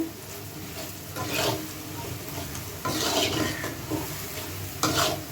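Onions and spices fry in a pan while a spoon stirs them through a chicken and peas curry, making a steady soft sizzle broken by scraping strokes at close range.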